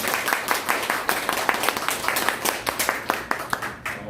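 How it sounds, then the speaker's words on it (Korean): An audience claps steadily at the close of a lecture at a civic association's regular lecture meeting, a dense run of overlapping hand claps that carries on for about four seconds without letting up. "박수로 감사합니다."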